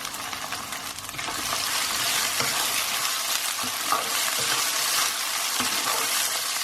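Tomatoes frying in a pan for a chicken meatball kofta curry, a steady, close broadband sizzle with scraping stirs and occasional soft clinks of the spoon against the pan, no talking.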